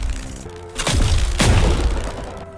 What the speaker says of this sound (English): here is the Mjolnir Blast